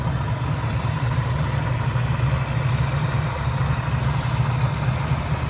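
A 1967 Ford Mustang fastback with a 289 V8, headers and a performance air intake idles steadily nearby, a loud, even low burble with a constant rumble and no voices.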